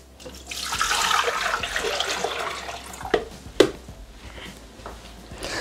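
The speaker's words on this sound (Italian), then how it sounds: "Mettere nel boccale l'acqua" Water poured into a Thermomix bowl, a close rushing splash that swells and then tapers off, followed by a couple of sharp clunks.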